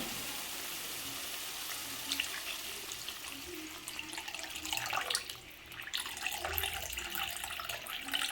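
Water is poured into a pan of fried mustard-poppy paste for a pabda fish curry, a faint steady splashing gush with a little sizzle, and no voices.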